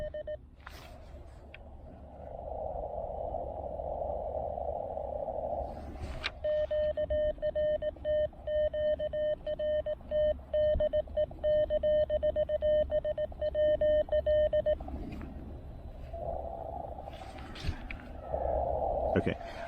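Morse code CQ call sent on a low-power amateur radio transceiver on the 40-meter band, in a portable setup with an Elecraft AX1 antenna and Mountain Topper MTR-3B. A steady, fairly clear keyed tone sounds over band hiss, with a voice speaking before and after it.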